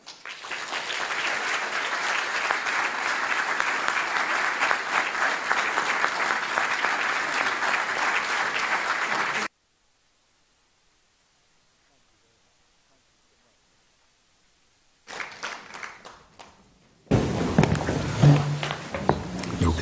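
Warm audience applause greeting Lucinda Franks and Dan Rather at an evening book event, a steady dense clapping for about nine seconds, then a long silence before brief noise and clapping return.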